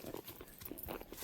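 Horse hooves clip-clop at a small horse camp, a quick run of rhythmic, moderately loud steps with a little background noise and no talk.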